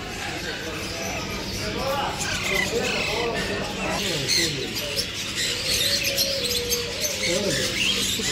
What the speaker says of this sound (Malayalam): നാടൻ തത്തയുണ്ട് നാടൻ തത്തയുണ്ട് കേട്ടോ അടിപൊളി